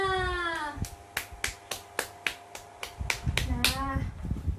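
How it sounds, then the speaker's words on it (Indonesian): Classroom clapping during a cooperative-learning maths lesson: about a dozen sharp, evenly spaced claps in a steady rhythm, with a teacher's voice before and children's voices after. "ayo tepuk tangan untuk kita semua"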